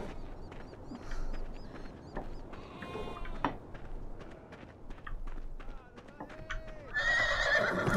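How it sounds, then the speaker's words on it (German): A horse neighs and whinnies near a stable in the video game Beyond: Two Souls. Hooves clip-clop softly, and a final loud whinny rings out near the end. "Hier ist ein Pferd."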